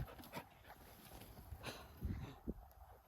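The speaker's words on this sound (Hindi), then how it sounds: "भाई कुत्ता आ गया था मेरे ऊपर।" A dog pants close by in quick, soft breaths over a faint background hum, alone with no talk.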